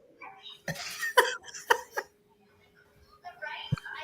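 Several sharp coughs burst out in quick succession, close and loud, mixed with a person talking between them.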